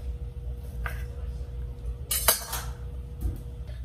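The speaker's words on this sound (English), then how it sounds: "Just you gotta chop these" A knife strikes a few times against a cutting board while chopping dry figs, the hard ends trimmed off, for a banana cake with dried fruit and nuts; three sparse, sharp clicks over low kitchen background.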